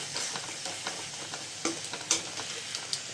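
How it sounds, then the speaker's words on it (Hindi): Vegetable masala frying in a pan at home, a soft continuous sizzle broken by scattered clicks and scrapes of stirring, fairly quiet and close, with no voices. "सब्ज़ी भूनती हूँ।"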